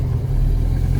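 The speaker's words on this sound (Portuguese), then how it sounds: "E aquele barulhinho característico, né? Quando você solta o pedal, de todo o Volkswagen Ar" An air-cooled Volkswagen Beetle flat-four engine lets off as the pedal is released. It makes a steady low, rumbling hum heard from inside the car, with no talking.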